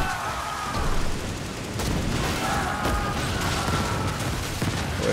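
Naval cannons fire from a ship in the pirate game Skull and Bones, a dense rumbling barrage of booms rolling over one another at steady loudness for several seconds.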